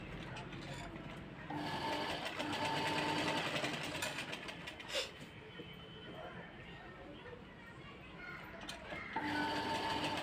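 A sewing machine stitches a strip onto the front of a katori blouse with a fast, rattling whir in two bursts, one long and one at the end, while a voice speaks nearby.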